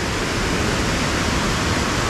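Ramboda Waterfalls in Sri Lanka, a loud, close, unbroken rush of falling water, a broad steady roar with no voices over it.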